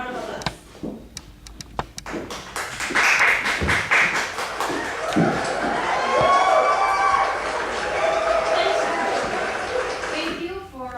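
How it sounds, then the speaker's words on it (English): Audience applause breaks out after a psychologist is introduced, a burst of sharp claps and taps that thickens into fuller clapping with cheering, while voices speak and music plays over it. "Please, give her a round of applause."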